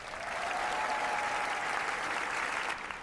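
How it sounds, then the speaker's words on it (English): Audience at a children's school play applauding and cheering: dense, steady clapping from a crowd, moderately distant, sustained evenly before tapering slightly at the end, with no speech. "the audience continues cheering"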